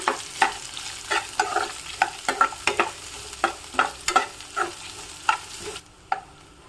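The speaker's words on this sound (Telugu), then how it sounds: "ఈ ఉల్లిపాయ ముక్కలను కూడా వేసుకోవాలి. వీటిని కూడా లైట్గా కలర్ వచ్చేంత వరకు వేయించుకోవాలి." Chopped onion pieces fry in a pan, with a light sizzle under frequent, sharp stirring scrapes and taps of a spoon against the pan, close by.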